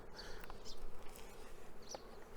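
Honeybees buzz in a hive colony opened for inspection, a close, continuous insect hum with brief louder passes of individual bees near the microphone.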